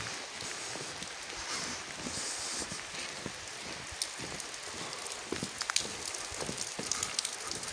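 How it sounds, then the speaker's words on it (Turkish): Rain falls steadily in a Turkish village, a dense hiss of drops hitting surfaces with occasional louder close patters that grow busier toward the end, with no voices. "Yağmur gittikçe hızlanmaya başladı arkadaşlar köyümüzde."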